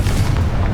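A Confringo blasting spell explodes in the video game Hogwarts Legacy with a brief, loud, low booming blast that rumbles heavily in the bass.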